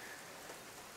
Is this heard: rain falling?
yes